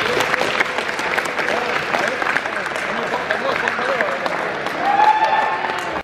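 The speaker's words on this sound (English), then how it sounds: "So give them a round of applause." Classroom audience applauding after student performances, a steady wash of clapping hands lasting several seconds, fairly close, with no voices over it.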